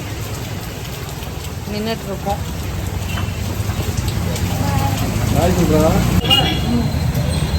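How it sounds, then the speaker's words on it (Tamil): Heavy rain pours down just outside a shop, a dense, loud hiss that swells stronger toward the end while a few people talk over it. "செம்ம மழை பெய்யுது."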